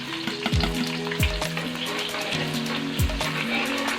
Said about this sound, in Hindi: अब हम इसमें प्याज ऐड करते हैं,